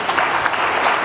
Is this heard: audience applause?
yes